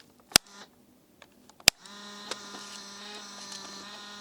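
Two sharp mechanical clicks, then a steady motorized whir with a faint whine, close and fairly quiet, as an Instax Wide 300 camera lens adjusts its focus.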